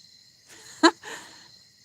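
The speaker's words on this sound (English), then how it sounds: "Can you hear all the crickets and everything?" Crickets trill faintly and steadily through a quiet night, broken by one brief, louder chirp.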